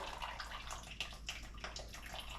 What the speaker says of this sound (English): Dripping pretty slow.